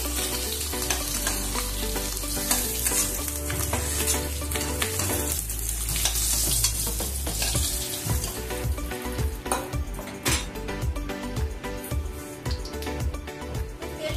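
Eggs lifted out of hot frying oil in a pan, a steady loud sizzle with scraping and clinking of the utensil over it, bursts of spattering toward the end.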